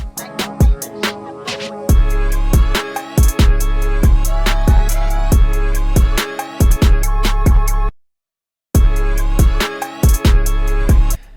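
A punchy hip hop beat with booming bass and sharp, steady drum hits, briefly dropping out to silence before kicking back in.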